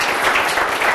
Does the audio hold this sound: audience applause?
yes